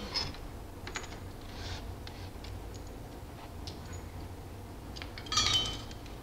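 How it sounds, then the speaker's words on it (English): Manifold bolts being loosened and removed with a wrench, a faint series of scattered metallic ticks, clicks and light clinks, with a slightly louder rattle near the end. "Let's go ahead and get some of these bolts removed"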